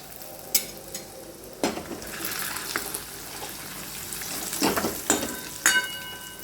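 Curry leaves hit hot oil in a pan after frying to a red colour, giving a steady close sizzle broken by sharp crackling bursts and a few clatters of a spoon, with no voices.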